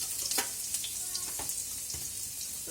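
Ginger and garlic fry in hot ghee with cumin for a mutton curry, giving a steady, close sizzle broken by a few soft stirring scrapes and no voices.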